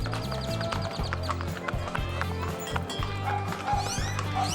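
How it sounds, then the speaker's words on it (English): Hooves clip-clop at a steady walking rhythm during the Fort Worth Herd cattle drive at the Stockyards, loud and close, with crowd noise and voices around them. "A highlight at the Stockyards is the Fort Worth Herd, the world's only twice-daily cattle drive."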